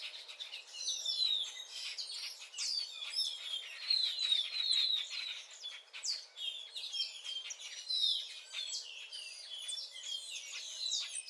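A family group of birds in Buenos Aires calls and chirps continuously, with dense overlapping high tweets and trills close by over about eleven seconds, alone with no talk.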